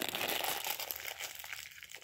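A plastic bag holding pretzels and a donut crinkles and rustles up close, a dense burst of crackling that fades slightly toward the end, with no talk.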